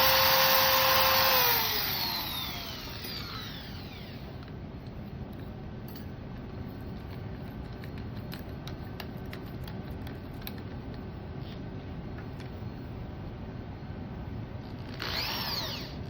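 A high-pitched powered drill whirs while drilling pin holes for a knee-spanning external fixator, winds down after a couple of seconds, then grinding and clicking noises continue before a brief whine returns near the end.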